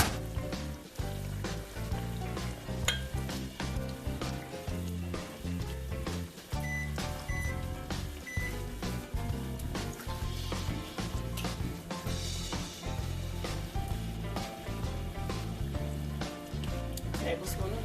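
Worcestershire sauce is poured into a pan of seafood. A steady, moderately loud sizzle carries on throughout, with a musical background underneath.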